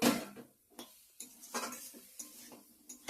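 Potatoes stir-fried with spices in a pot for a simple potato and paneer curry, with a spoon scraping and clinking against metal in short, irregular bursts, moderately close with quiet gaps between strokes.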